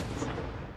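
A cannon at a fireworks show gives a dense, rumbling roar through the whole short moment, loud and sustained without a clear single onset.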